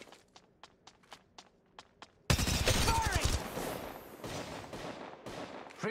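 Gunfire in the Apex Legends Mobile battle royale game: soft, evenly spaced footstep taps give way to a sudden loud burst of rapid automatic shots, followed by continued dense firing and scattered impacts with faint voices underneath.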